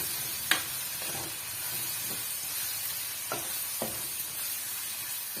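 Coriander powder sautéing in a pan for a bitter gourd curry gives a soft, even sizzle close by, with a few light taps and scrapes from stirring and no voices.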